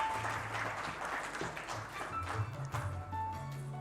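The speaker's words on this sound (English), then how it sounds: "Can we have a round of applause, ladies and gentlemen," An audience applauds a panel at an academic panel discussion, a steady wash of many hands clapping, moderately distant and fairly soft, with faint tonal background sounds mixed in.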